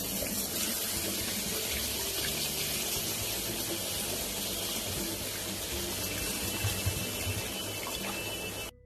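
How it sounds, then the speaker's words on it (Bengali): Water pours steadily into a pan of hilsa fish curry, a continuous close splashing rush that holds at an even level before stopping abruptly. "জল দিয়ে দিচ্ছি।"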